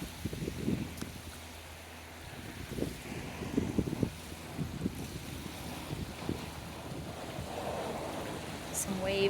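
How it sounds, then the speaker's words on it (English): Small waves lap softly against the Indian River shore in quiet, irregular splashes, with light wind noise and a faint background hum. "Some waves lapping up."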